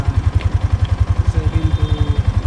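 A 2021 Yamaha Sniper 155 VVA standard motorcycle engine runs at a steady idle, close and loud, with a rapid, even low thumping pulse throughout.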